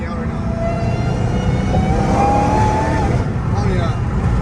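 Supercharger whine from a Dodge Challenger Hellcat Redeye fitted with quiet valved mufflers, a steady high pitched tone over a low, muted engine rumble heard from inside the car, with a voice talking over it.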